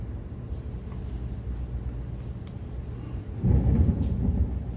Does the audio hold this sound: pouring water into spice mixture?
no